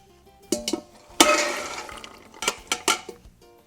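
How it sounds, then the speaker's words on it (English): Soaked red beans being tipped back into a pan: a few wet clatters and a rushing pour of beans and water against the pan, close and moderately loud, with quieter taps afterward, no talking. "and I'm going to put the beans back in the pan."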